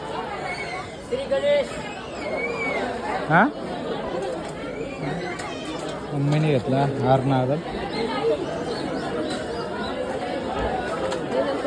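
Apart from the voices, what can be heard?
crowd chatter at Ganpati temple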